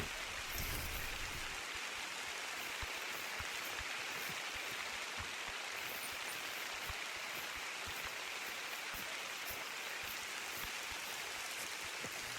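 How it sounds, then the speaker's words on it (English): Steady, even rainfall in the video game theHunter: Call of the Wild, with a dense patter of drops, continuous and moderately loud, with no voices and no break in the downpour. "And it's still raining."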